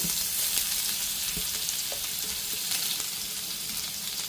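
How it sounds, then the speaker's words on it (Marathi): Cumin seeds and a ground spice paste sizzle steadily in hot oil, a continuous bright frying hiss with a few soft clinks of stirring, close and fairly loud, no voices. "आता तेल तापलेलं आहे थोडेसे जिरे घेतलेले आहेत हातावरती चोळायचे आणि असे टाकायचे त्याच्यामध्ये जे वाटण केलं होतं आपण ते टाकायचं"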